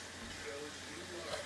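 Chicken wings frying in a pan, giving a steady, soft sizzling hiss that holds evenly throughout without clear pops.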